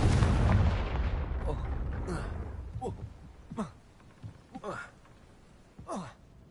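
Spell blasts in a Hogwarts Legacy game fight: a loud rumbling boom opens, then several sharp whooshing bursts and impacts follow at irregular intervals, fading out after each hit.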